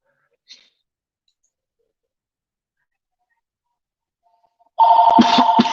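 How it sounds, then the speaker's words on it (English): A house phone rings with incoming calls, bursting in loud and close after several seconds of near silence, its sharp ringing continuing steadily to the end. "I know y'all hear those phone calls"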